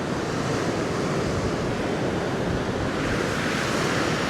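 Water falling through a dam lock gate in Munnar, Kerala, a steady, loud broadband rush and roar with no breaks, close by and unaccompanied by talk.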